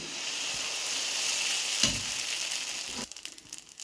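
A loud continuous sizzle of batter cooking in a lightly oiled hot pan on a stove, which cuts off abruptly near the end, leaving faint clatter.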